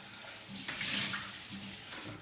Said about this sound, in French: Vous voyez, juste passer sous l'eau, il se nettoie super bien.